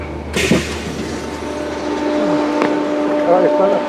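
Merseyrail train pulling into Bromborough Rake station, a steady rolling rumble inside the carriage with faint wheel clatter, squealing brakes and a brief onboard tone, while a voice talks over it.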